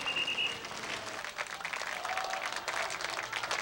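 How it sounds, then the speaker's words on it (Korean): Citizens applaud protesters leaving a Catholic Center sit-in during the June 1987 democracy uprising in South Korea, a dense, steady crowd clapping that holds strong and unbroken throughout. "시민들은 뜨거운 박수로 환송했다"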